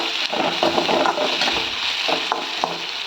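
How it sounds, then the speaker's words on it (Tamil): Green chilli and curry leaves sautéing in a hot pan for an egg curry, a steady sizzle with a few stirring scrapes and clinks, close and continuous with no talk. "க்ரீன் சில்லி சேர்த்து அப்படியே கருவேப்பிலையும் ஊற்றி சேர்த்துக்கலாம். சேர்த்து நல்லா வதக்கி எடுத்துக்கலாம்."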